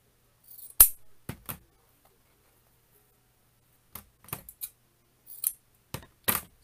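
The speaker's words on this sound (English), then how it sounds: "I know you guys love my huge scissors." Large scissors make sharp, isolated snips while cutting material for a wreath. Single clicks and short clusters of cuts are separated by near silence.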